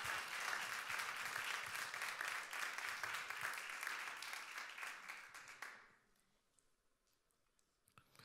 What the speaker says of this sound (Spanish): Oh, déselo fuerte ese aplauso.